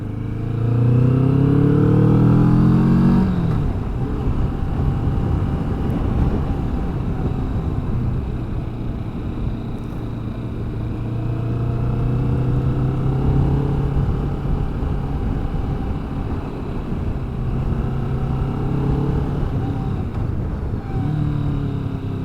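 A 2020 Kawasaki Vulcan S cruiser motorcycle engine rumbles steadily while riding, rising loudly in pitch in the first few seconds then settling into a continuous drone with wind noise, varying as the throttle changes.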